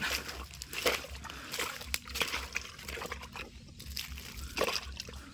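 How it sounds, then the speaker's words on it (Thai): Floodwater flows over rice fields, a busy wash of splashing and trickling with uneven surges throughout, moderately close and free of speech. "น้ำไหลขนาด"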